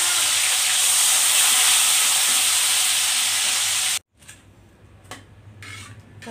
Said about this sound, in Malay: Sekarang saya mau goreng tomatnya.